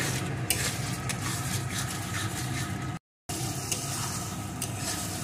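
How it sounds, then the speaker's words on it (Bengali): Masala for a fried chicken curry being stir-fried in a pan: steady sizzling with stirring scrapes and utensil clinks, close and continuous, with a brief dropout midway. "এখন মশলাটা আরও বেশ কিছুক্ষণ কষিয়ে নেব।"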